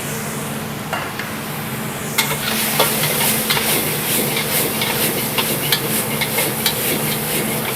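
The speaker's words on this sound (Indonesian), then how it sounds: "Langsung bombay sama daun bawangnya kita masukin" Onion and spring onion hitting a hot pan with garlic for Chinese-style tofu, erupting into a loud steady sizzle with repeated scraping stirs and clacks of a spatula, no talking.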